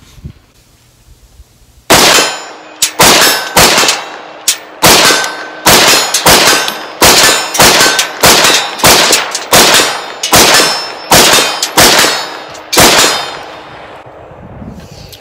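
Rapid rifle shots striking steel targets at 50 yards, a string of about eighteen loud cracks, each followed by a bright metallic ring, fired in a fast, slightly uneven rhythm after a quiet start.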